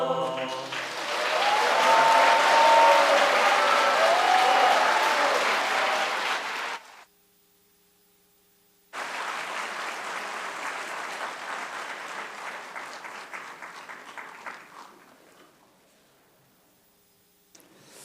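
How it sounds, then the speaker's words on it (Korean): A church congregation at a winter camp service in Gangneung applauds a choir. The clapping is loud and sustained, cuts out briefly, then resumes and gradually fades away. "은혜로운 찬송을 불러주신 우리 강릉교회 합창단에 여러분 다시 한번 큰 박수 보내주시기 바랍니다"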